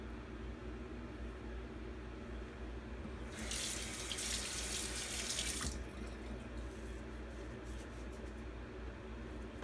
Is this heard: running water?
yes